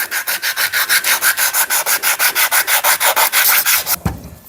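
Bondo body filler on a vise part is sanded smooth by hand, a loud, close, steady back-and-forth rasping in even rapid strokes, stopping abruptly near the end with a soft knock.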